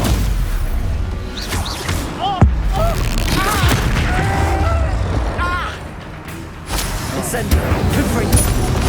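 Spell explosions boom and crash in Hogwarts Legacy combat, loud repeated blasts with whooshes and impacts across a busy fight, under shouted voices.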